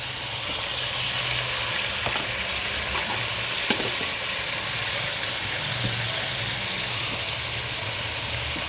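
Ginger garlic paste and green chilli paste frying in a pan for chicken karahi, a steady close sizzle with a few faint stirring clicks and taps, no one talking.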